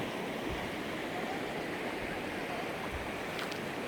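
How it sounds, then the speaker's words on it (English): A busy river rushes steadily on the Dartmoor moors, a dense, even wash of flowing water close by with no voices. "It's a lovely river."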